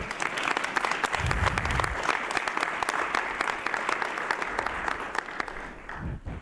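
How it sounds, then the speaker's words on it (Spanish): An audience at a talk on communal life in Oaxaca applauds a speaker, dense, sustained clapping from many hands that carries on steadily and tapers near the end. "Un aplauso para Sofi, por favor."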